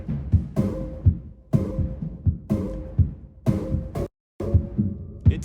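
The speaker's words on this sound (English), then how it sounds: "And then I added a bass and a little chord thing" Synth bass pulses and short chord stabs loop over a steady electronic beat, repeating in an even rhythm with a brief dropout near the end.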